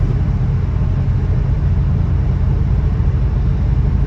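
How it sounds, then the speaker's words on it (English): A 1965 Jaguar MKII with a 3.4 engine rolling off the throttle, a steady low rumbling drone with road noise, close and fairly loud, no sharp changes. "Letting my foot off the throttle sharply there."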